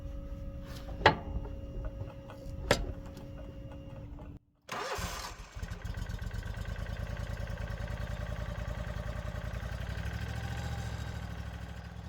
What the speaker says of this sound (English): we can start the engine and let the hydraulics warm up